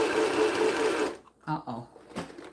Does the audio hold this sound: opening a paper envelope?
no